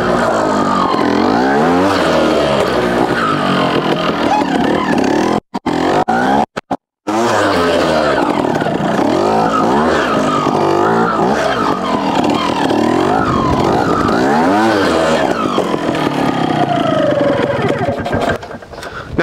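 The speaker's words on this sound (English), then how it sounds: "I am really enjoying riding this Fantic." A Fantic twin-shock trials motorcycle ridden nearby, its engine loud and rising and falling in bursts as the throttle is blipped over terrain, with a couple of brief dropouts.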